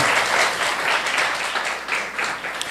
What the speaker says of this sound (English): So let's give Dr. Hurst another round of applause.